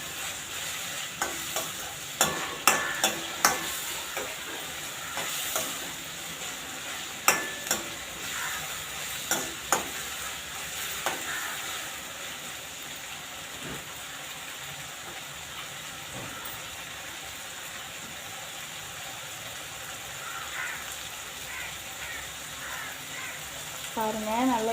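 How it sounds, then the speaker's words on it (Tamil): Tomatoes sautéing in oil for an egg gravy, a steady close sizzle with frequent scraping and clinking as a spoon stirs the pan, while a person talks throughout. "நல்லா தக்காளி வதங்கணும்."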